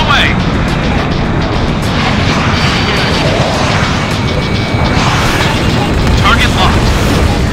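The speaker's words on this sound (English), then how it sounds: "Missile away!" A missile launches and detonates in the jet combat game Ace Combat Infinity during a co-op battle, with roaring jet engine noise and booming blasts under continuous game audio and radio chatter.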